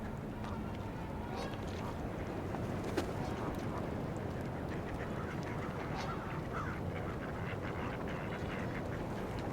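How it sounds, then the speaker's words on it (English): Male mallard ducks quacking and scuffling on a rocky lakeshore among geese and swans, rough overlapping calls and splashy bursts over a constant outdoor background, fairly faint and distant. "A couple male mallards fighting right now."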